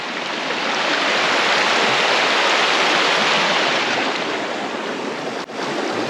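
Loud, constant rush of a fast-flowing river in Sweden, a dense roar that holds steady with no voices.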